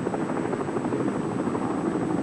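A coast guard helicopter flies overhead in a steady, dense rotor and engine roar that stays loud and even throughout, in a scene from the 1975 film about the Devil's Triangle.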